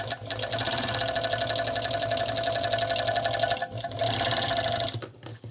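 A Gemsy RXM-2000-A industrial sewing machine stitches with its flywheel held, giving a fast, even mechanical clatter that runs loud and close, briefly pauses, then resumes before stopping.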